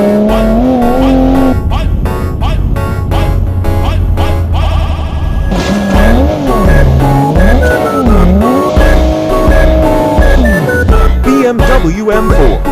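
Toyota Supra in the BeamNG.drive game, its engine wailing and shifting pitch as it races, with tire squeals and crash impacts, loud and busy under music.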